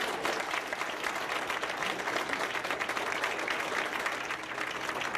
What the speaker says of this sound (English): Everyone clapped when the council voted down the ordinance in a 3-2 vote.